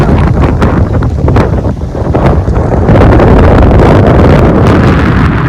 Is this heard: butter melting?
no